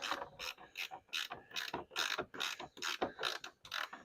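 A ratchet undoes the hard top bolts on a Triumph Spitfire 1500, making a steady run of close, crisp clicking strokes, about a dozen quick pawl bursts in a regular rhythm, with no talking.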